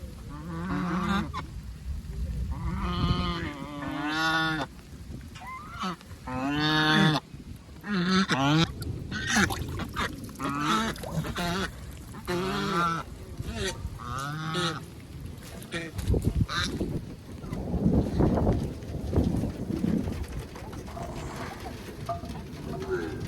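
Geese honk loudly and repeatedly close by, a noisy flock calling over and over in bursts, with a voice talking at times among them.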